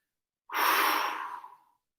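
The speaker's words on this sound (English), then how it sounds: "Inhale through the nose. Open mouth, exhale." A single long open-mouthed exhale during a hatha yoga breathing exercise, breathy and fairly close, lasting just over a second and fading out, with silence before and after.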